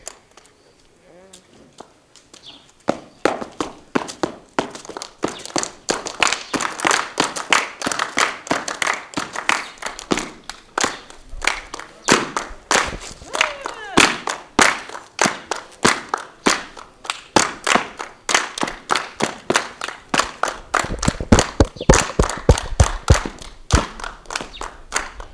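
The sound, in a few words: audience clapping for child's traditional dance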